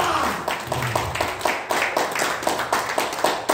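A church congregation claps in a steady, fast rhythm, loud and close, with voices mixed beneath the beat.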